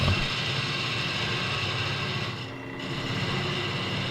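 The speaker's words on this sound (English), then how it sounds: "Hopefully you can hear that my lathe is running better. It's still making a little bit of noise. I think it still has bearing issues." A wood lathe with a Reeves belt drive and worn bearings runs steadily, giving a close, continuous mechanical hum with a faint rattly, ratchet-like texture that dips briefly partway through before returning.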